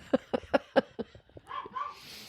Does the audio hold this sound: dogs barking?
yes